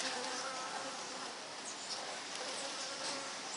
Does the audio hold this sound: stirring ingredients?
no